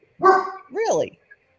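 A dog gives two loud, close barks, a yelping woof then a rising bark, reacting to a UPS delivery arrival.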